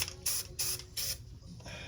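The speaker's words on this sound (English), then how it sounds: "So get that corner edge all the way down, and then just spray it in." Undercoating sprayed from an aerosol can onto a Jeep Wrangler, in a few close hissing bursts separated by short pauses, with no voices.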